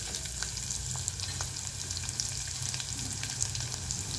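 Onions frying in a pan for a Telugu cluster-bean (guar) milk curry, a steady close sizzle with small crackling pops throughout and no talking.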